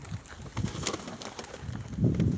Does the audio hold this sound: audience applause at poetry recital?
no